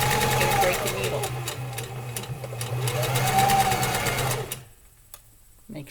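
Sewing machine stitching fabric in a fast, steady run of needle strokes, close and loud, then stopping near the end.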